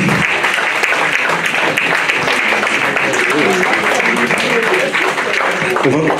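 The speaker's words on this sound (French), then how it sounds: "On peut applaudir Madame la baronne Mariette de là-haut" An audience applauds Baroness Mariette Delahaut at a ceremony where she receives the Gaillarde d'Argent, steady dense clapping from many people holding an even level throughout.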